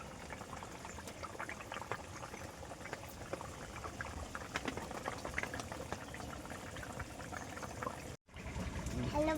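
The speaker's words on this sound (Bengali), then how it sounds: "তরকারি ফুটে উঠেছে, এবারে মাছগুলো দিয়ে দিলাম।" A pot of fish curry bubbles at a steady boil as pieces of fresh rohu are dropped in, a dense close hiss of simmering liquid with small splashes, then a brief cutout before the bubbling resumes.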